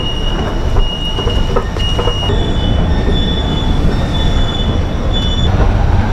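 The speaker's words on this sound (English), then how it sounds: "this is the underground train" A driverless underground metro train in Brescia, Italy rumbles along with steady wheel noise and high metallic squeals from the rails, loud and continuous with no talking.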